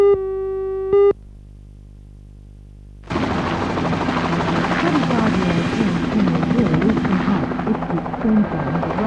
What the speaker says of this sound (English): The Westpac rescue helicopter flew that stretcher.